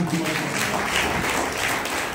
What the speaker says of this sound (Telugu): చప్పట్లు కూడా దేవుడు నామమున